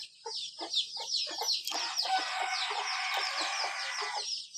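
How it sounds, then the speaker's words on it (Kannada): Small chicken chicks cheep busily outdoors after rain, with a dense run of high, rapid peeping calls that sound close and continuous, plus a few lower clucks mixed in. "ಈ ಸಣ್ಣ ಮರಿಗಳಂತೂ ಎಷ್ಟು ಸೌಂಡ್ ಮಾಡುತ್ತೆ ಅಂದರೆ ಯಾವಾಗ್ಲೂ ಪಿಯಾ ಪಿಯಾ ಅಂತಾನೆ ಇರುತ್ತೆ"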